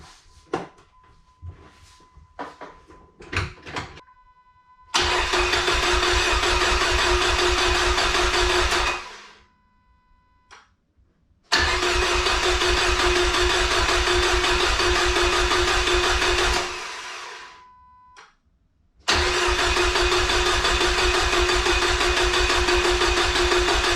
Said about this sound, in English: we'll show you guys cranking this thing over, getting some oil up, and then the initial fire